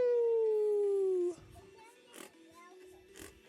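A person imitates a werewolf with a long, loud, sliding howl that drops gradually in pitch, followed by faint background noises.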